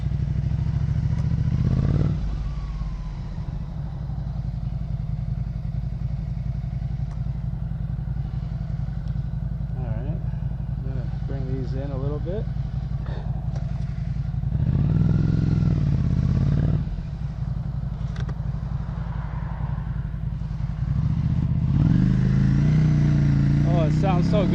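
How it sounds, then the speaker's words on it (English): A 2015 Ducati Scrambler with a 2-valve engine and aftermarket Termignoni exhaust idles with a steady low thrum, swelling in a couple of revving bursts while someone talks over it nearby. "It's got a non-stock Terminioni exhaust."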